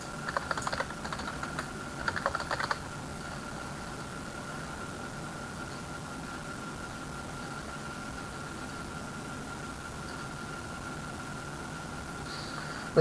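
A short burst of typing on a computer keyboard, quick clustered key clicks in the first few seconds, followed by a steady quiet room hum with no further keystrokes.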